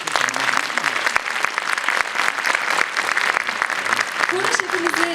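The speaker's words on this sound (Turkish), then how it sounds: "alkışlarımız koromuz için" Audience applause for a choir at an autumn concert of a music association, a dense steady clapping from a crowd that fills the hall throughout, with a voice speaking over it.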